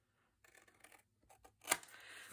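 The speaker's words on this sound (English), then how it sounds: "Come in with your scissors and trim out these corners." Scissors snip through paper card corners in a few quick crisp cuts, a cluster of short clicks ending in one sharper snip, close and fairly quiet.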